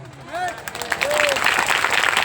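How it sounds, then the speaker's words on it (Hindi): Congregation clapping during a Christian church service, a dense wash of applause swelling and continuing steadily, with a voice speaking over it at the start. "बजाओ बराबर ताली यीशु के नाम से"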